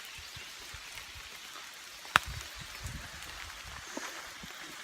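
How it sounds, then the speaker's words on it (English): Heavy rain pouring down outdoors under a tree, a steady dense patter of drops with one sharp louder drip partway through, no voices. "It's absolutely pissing it down."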